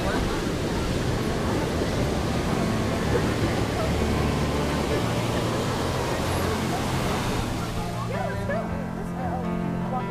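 Ocean surf rolls in steadily on a California beach, a broad continuous wash of breaking waves close to the shore, with a family chatting over it.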